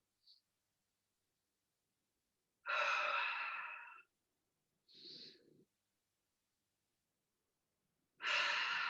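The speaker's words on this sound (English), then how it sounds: "Biggest breaths of your life." Deep, slow breaths from a breathwork session, heard close and alone: a long inhale, a shorter breath, then another long, loud inhale, with silent pauses between them.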